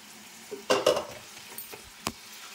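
A metal pot lid comes off a pot of ridge gourd and tomato cooking on the stove, with a cluster of close clanks and rattles followed by a lighter clink and a faint sizzle underneath.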